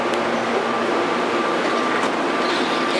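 The automated people mover train at Tampa International Airport runs with a steady, close interior hum and rushing rolling noise, without talk.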